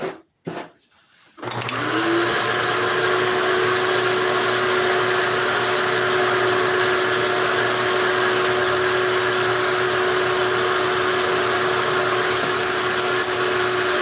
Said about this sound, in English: Turn the shop back on and grind with the grind tool.